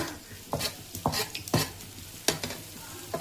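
Ginger garlic paste sizzles in a hot pan for a Vijayawada-style curry, with repeated sharp scraping stir strokes over a steady quiet frying hiss.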